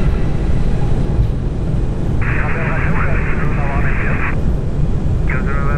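Airbus airliner engines at takeoff thrust give a loud, steady broadband roar heard from inside the cockpit, with radio-style voices talking over it in bursts.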